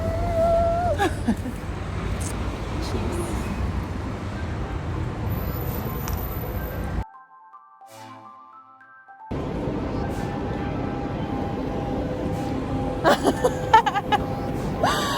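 Ambience inside Gare du Nord train station in Brussels. A steady wash of crowd and hall noise fills the space, then cuts out briefly before returning with faint voices and scattered clatter.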